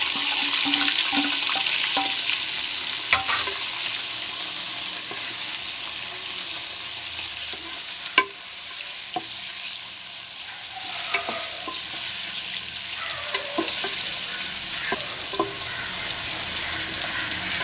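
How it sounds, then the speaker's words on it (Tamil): Onions dropped into hot oil with fried biryani spices for homemade chicken biryani sizzle steadily while a spoon stirs and scrapes the pot, with occasional sharp clinks and no speech. "இப்போ நம்ம வந்து ஆனியனை இதில் கொட்டி நம்ம நல்லா வதக்கிடணும்"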